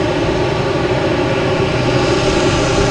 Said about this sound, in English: JetBlue taking off, heading to London Heathrow